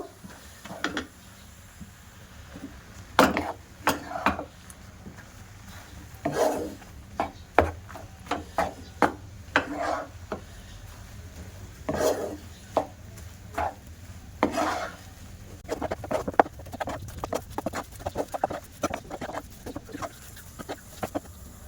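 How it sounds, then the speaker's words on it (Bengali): Bread is stirred into boiled milk and worked into a stiff dough in a pan over the stove. Irregular scraping and knocking strokes land close up, loud and uneven, over a faint background hiss. "যে পাউরুটিটা আমি কেটে রেখেছিলাম ওই পাউরুটিটা দিয়ে দেব। দিয়ে এবার শক্ত করে একটা ডো বানিয়ে নেব।"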